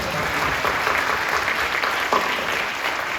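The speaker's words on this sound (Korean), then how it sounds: "박수로 격려해 주시죠." Dense, steady applause from a church congregation at a Friday night prayer service, a continuous wash of many hands clapping at even loudness throughout.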